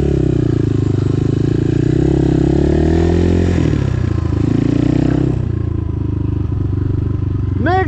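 Chinese RFZ 250 motorcycle engine revving hard while the rider pulls a wheelie, a loud, close droning roar that rises and falls, with a person talking over it.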